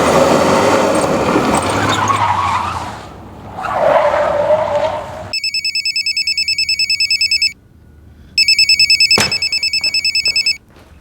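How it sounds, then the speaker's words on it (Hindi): A telephone rings in bursts of electronic trilling in a tense crime drama scene, following loud tyre skidding and car noise, then two ringing spells with a sharp click between them. "रिजवान, फोन उठाओ, हो सकता है किडनैपर्स को कॉल हो।"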